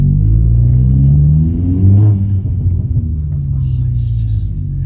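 A 330 bhp VW Polo GTI engine pulls hard with a deep rising drone, dips briefly as it shifts, then climbs again, loud and close from the cabin.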